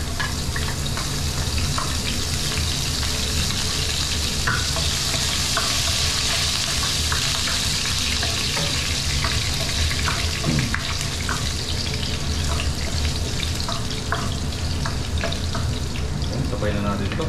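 Onions and tomatoes fry in a pan with a steady, dense sizzle and crackle throughout, occasional stirring scrapes and small pops on top, close and fairly loud, with no voices.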